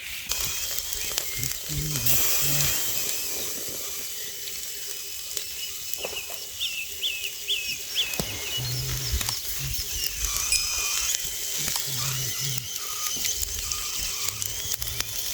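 Steady hissing sizzle of potatoes and lard frying in a pan, with occasional soft clicks and low background noises throughout.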